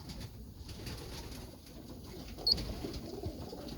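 Racing pigeons coo and shuffle at a loft trap after a 40-mile toss, faint and steady, with a brief louder bump midway.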